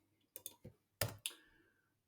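Short bursts of computer keyboard typing, a handful of sharp clicks and key presses in two quick clusters, close and fairly quiet with no talking.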